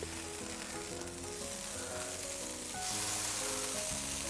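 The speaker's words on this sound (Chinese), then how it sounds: "猪肝下锅以后，我们轻轻给它推一推，只要水烧开就可以啊" Pork liver slices cooking in a pot of boiling water, giving a steady bubbling hiss that grows slightly stronger partway through, with no voices.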